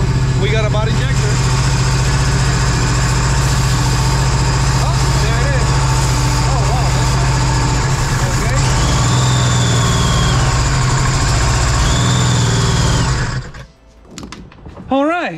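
A Sea-Doo RXP-X jet ski engine runs loud and steady with a low droning rumble after a freshly installed motor is started, then cuts out abruptly near the end.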